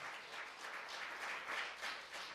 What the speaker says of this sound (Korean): 박수로 영광.